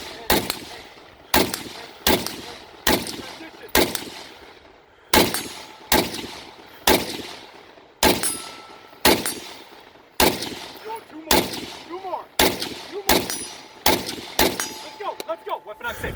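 Pistol shots at a carry training class in Clermont, Florida crack out one after another, about seventeen sharp, loud reports at roughly one-second intervals, each ringing briefly before the next.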